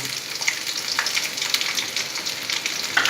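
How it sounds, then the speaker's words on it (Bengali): Chopped onion hitting hot oil in a kadai gives a bright, crackling sizzle that carries on evenly at close range, with small pops scattered through it and no voices. "এই তেলটা গরম হয়েছে, মোটামুটি গরম হয়ে গেছে, আমি ছেড়ে দিচ্ছি পেঁয়াজটা"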